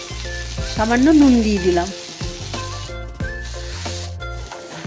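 Crab pieces with turmeric frying in oil, a loud close sizzle with wet scraping and squishing as they are stirred in the pan, while someone speaks briefly over it.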